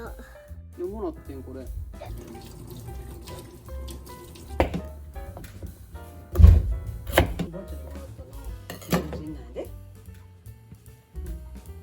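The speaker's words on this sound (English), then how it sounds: "starts by chopping up potato, carrot, onion and some chicken" Irregular knife taps on a cutting board as potato, carrot, onion and chicken are chopped, a few louder chops standing out, close by, with some other kitchen noises.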